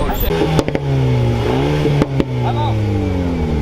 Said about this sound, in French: Regardez la Ventador SV de Raoul.